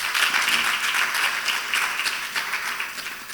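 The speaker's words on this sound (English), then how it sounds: "please, another round of applause for my panelists" Conference attendees applaud panelists at a law forum session, a loud burst of clapping that holds for a few seconds and then thins slightly toward the end, with no talk.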